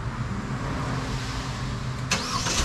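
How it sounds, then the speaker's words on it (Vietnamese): A 2023 Kia K3 2.0 Premium starts by remote start, its engine idling as a steady low hum, with a brighter burst of noise near the end. "anh em nghe tiếng máy nổ chưa? Đó là chức năng để nổ từ xa"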